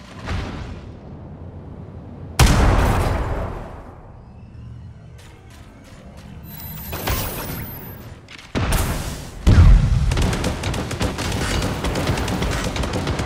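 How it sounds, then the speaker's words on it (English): Loud bursts of gunfire and booming blasts in the video game Super Mecha Champions, with sharp onsets around a few seconds apart and a rumbling low end between them. "I hear gunfire."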